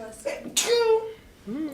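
One sharp, breathy sneeze bursts out close by, with brief voices murmuring just before and after it.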